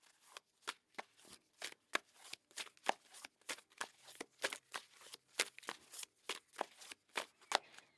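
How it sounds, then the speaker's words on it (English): Tarot card deck being riffled and shuffled by hand, close and crisp, in a long run of rapid rhythmic bursts of flicking cards with brief pauses between them. "let's cut this deck here"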